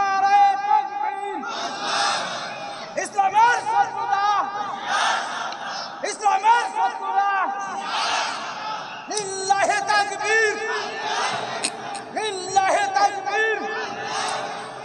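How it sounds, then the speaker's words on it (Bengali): A large crowd at an outdoor Islamic sermon roars back a takbir chant in repeated, forceful waves of massed voices, each call swelling then breaking off. "একটা তাকবীরে ধ্বনি দিতে হবে, নারায়ে তাকবীর, নারায়ে তাকবীর"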